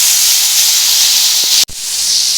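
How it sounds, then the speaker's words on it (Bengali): Pointed gourd (potol) frying in hot oil for a Bengali potato and prawn curry, a steady loud sizzling hiss broken by one brief dropout. "পটলটা আমি একটু ভালো করে ভাজছি"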